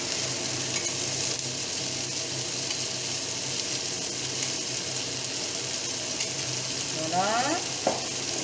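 Cannelloni filling being stirred with a little béchamel in a pan, a steady close frying sizzle throughout with a scrape of the spoon near the end.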